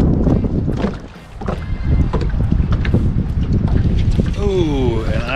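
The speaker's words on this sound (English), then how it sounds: "because the wind is so high" Strong wind buffets a small fishing boat off Grenada, a loud continuous roar of microphone gusts and rushing water, with a brief lull partway through and faint tonal squeals at the end.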